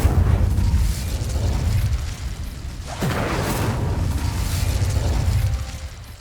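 An Incendio fire spell cast in the Hogwarts Legacy video game, made up of a steady loud roaring rumble with a sharp burst near the middle, continuous for about six seconds.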